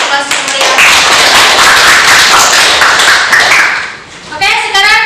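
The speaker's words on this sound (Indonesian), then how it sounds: "Kita berikan aplaus meriah." Classroom of schoolchildren in Indonesia applauding loudly together, a dense steady clatter of many small hands for about four seconds before fading, with children's voices and chatter surfacing at the end.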